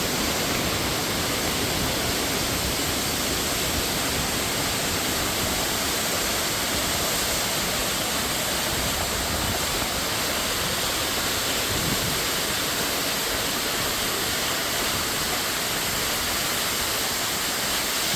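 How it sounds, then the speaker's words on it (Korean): A constant, heavy roar of falling water fills the whole stretch, broad and unbroken, like a nearby waterfall pouring without pause, in Juwang Valley, Juwangsan, Cheongsong, Korea. "광굴 위에 떨어지는 폭포수가 아주 보기 좋습니다."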